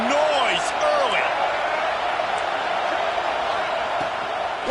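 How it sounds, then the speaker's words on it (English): A stadium crowd at an American football game roars loudly and steadily throughout, with scattered whoops and whistles rising above the din while an announcer talks over it. "This crowd bringing the energy and noise early."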